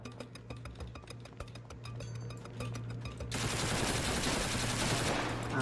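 Rapid bursts of GTA RP video game gunfire, shots fired upward, crackle over a steady hum, turning into a dense, continuous barrage in the second half.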